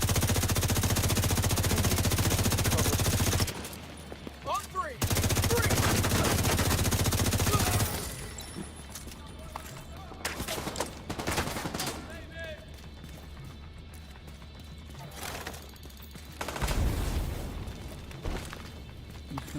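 Rapid automatic gunfire in a shooting video game, loud bursts of continuous firing that cut in and out, then scattered lighter shots and pops over quieter stretches, with someone speaking at points.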